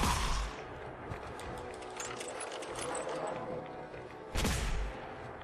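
Gunfire in Fallout 4: two sharp single shots, one at the start and another near the end, with clinking mechanical game sounds between.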